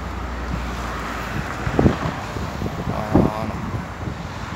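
Wind buffets outdoors at a construction site at the Mohammed VI Tower in Rabat, a steady rushing roar with low microphone rumble and a couple of stronger gusts.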